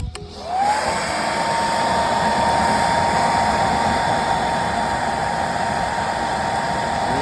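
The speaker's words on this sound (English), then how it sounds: "one of my daughters did throw away a blow dryer, so this works just fine" A hair dryer switches on and blows a steady, loud rush of air with a constant whine, running without a break.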